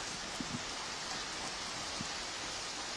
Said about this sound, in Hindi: लग रहा है कि वहां पर झमाझम बारिश हो रही है।